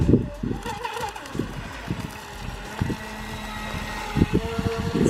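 A brushless Atomik Barbwire 2 RC speedboat runs at full throttle out on the water, its high motor whine rising and falling as it passes, with gusty wind buffeting the microphone throughout.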